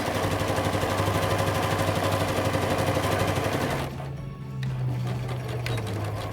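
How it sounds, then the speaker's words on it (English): A sewing machine runs steadily at regular stitch length, sewing a flat felled seam, then briefly slows and pauses before stitching on in reverse to lock the seam; continuous close mechanical whir with no talking. "I'm going to sew forwards and backwards to lock my stitching and sew to the end"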